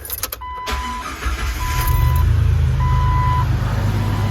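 A Jeep Wrangler with a six-speed manual and a clogged catalytic converter cranks briefly, then settles into a steady, loud low idle rumble while a repeating electronic chime sounds over it.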